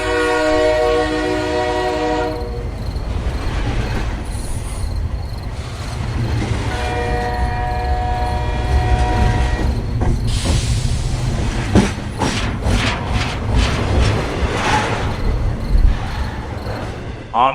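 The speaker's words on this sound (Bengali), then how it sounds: "আমি ছুটে গিয়ে একটা বগিতে উঠে পড়তেই ছেড়ে দিল ট্রেন।" The last train pulls out of the station with a loud, sustained horn blast, then a second long horn call. The rumble of the carriages rises and the wheels clatter rhythmically as the train gathers pace.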